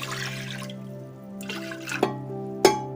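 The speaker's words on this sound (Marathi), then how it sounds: "आणि कुकरमध्ये आपण पाणी घालणार आहे" Water is poured into a pressure cooker in a home kitchen for making paneer, a light splashing and trickle broken by two sharp metallic clinks of the vessel, close and clear with no talk.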